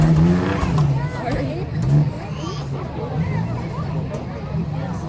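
Isuzu tough truck racing at the Lebanon fairgrounds, its engine revving and surging amid crowd chatter and a loudspeaker voice, with brief tire squeals and bursts of throttle in the middle distance.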